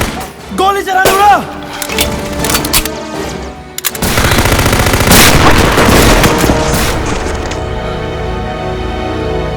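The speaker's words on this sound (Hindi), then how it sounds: "ट्रिगर दबाएगी, फायर हो जाएगा" Rifle gunfire in a war film battle scene: sharp shots and bursts that build into loud, sustained firing mixed with booms, with a brief vocal cry near the start.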